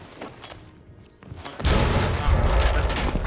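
Shotgun gunfire in a video game: after a quieter stretch with faint scattered shots, heavy booming blasts and a dense barrage erupt close and loud, with voices faintly in the background.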